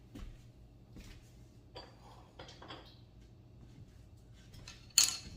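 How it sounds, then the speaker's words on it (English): Bread flour, yeast and salt are mixed in a bowl. A utensil gives soft scrapes and clinks against the bowl, with a sharper clink near the end, and there is no talk. "So I'm going to kind of mix some of that yeast in"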